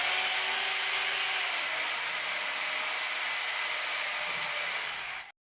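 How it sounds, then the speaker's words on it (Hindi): An electric drill bores into a concrete ceiling to fit hooks for a hanging swing, giving a loud, continuous, hissing roar that holds steady for about five seconds and then cuts off abruptly. "इसी 1 फीट के फासले के हिसाब से हम छत में ड्रिल करेंगे।"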